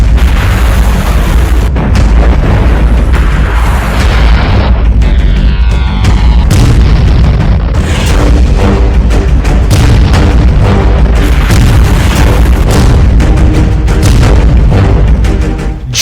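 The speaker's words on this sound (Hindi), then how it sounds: "जब से मिसाइल के हमलों से यूक्रेन में शोलों की ऐसी बाढ़ आई है" Missile strikes in the Russia-Ukraine war, Kharkiv, produce loud continuous booming explosions and heavy rumbling blasts, dense and overlapping throughout with sharp bursts layered on top.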